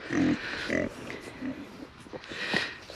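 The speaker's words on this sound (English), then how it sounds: "And they squeal all the time just for attention." Several homestead pigs grunting and oinking in short bursts, moderately close, with a human voice mixed in among the animal sounds.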